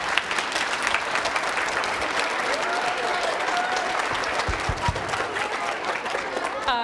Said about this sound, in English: So a round of applause for Mrs. Burha and Mrs. Holt